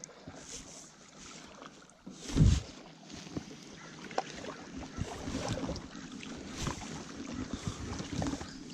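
Paddles stroking water from a Pelican two-seater boat with a small rear keel, soft splashes and gurgles close by under steady wind noise, with one louder thump near the start.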